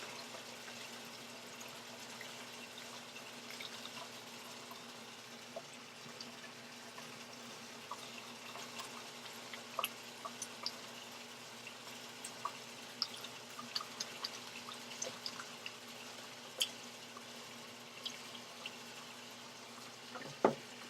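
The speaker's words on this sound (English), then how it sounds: "Just gonna wash my hands quickly, because they're covered in, butter" Running tap water pours steadily over hands being washed at a sink, a continuous soft splashing wash with small drips and spatters scattered throughout, fairly quiet and close, no talking.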